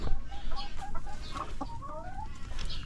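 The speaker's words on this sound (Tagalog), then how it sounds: "3 hen, 1 rooster." Backyard chickens, three hens and a rooster, cluck steadily and close by, with short overlapping calls over a low rustling farmyard background.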